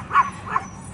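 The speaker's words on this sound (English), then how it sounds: "there's puppies coming." Puppies giving two quick, high yips about a third of a second apart, fairly close, over faint background noise.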